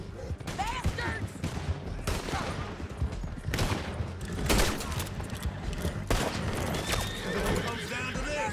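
Gunfire crackles in Red Dead Redemption 2 during a horseback chase through a canyon, with scattered shots and bursts over galloping hooves and whinnying horses, and voices shouting at times.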